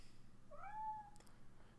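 A single faint cat meow, a short rising-and-falling cry heard in a quiet room alongside a lecture playing from a computer, with a soft click just after.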